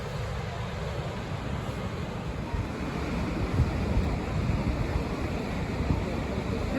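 The Potomac River pours steadily over the rocky Great Falls at average flow, a constant broadband roar of rushing water with wind buffeting the microphone and no distinct breaks.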